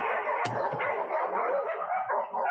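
A dog barks once sharply, then a few softer yips and whimpers follow close by over constant background noise.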